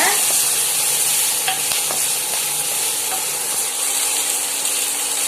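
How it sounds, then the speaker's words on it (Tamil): Onions and fennel seeds stir-frying in a hot pan for a fish curry, with a steady close sizzle broken by repeated scraping and clinking of a spoon against the pan. "இப்ப எல்லாத்தையும் சேர்த்து நல்லா வதக்கி விட்டுக்கலாங்க."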